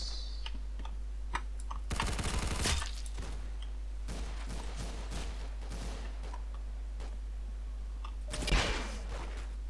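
Gunfire in Roblox Arsenal comes as a short burst of rapid shots, then a few scattered single cracks and a second brief burst near the end, fairly quiet and sharp against a steady low background hum.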